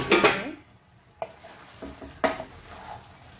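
Soya chaap pieces tipped into frying masala in a pan: a bright sizzle at the start, then a few sharp scrapes and clacks of stirring with quieter frying between them.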